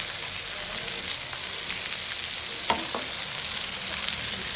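Sliced onions and green chillies frying in a pan for Sri Lankan hot butter cuttlefish, a dense, even sizzle filling the clip, broken by one or two soft knocks of a stirring spoon.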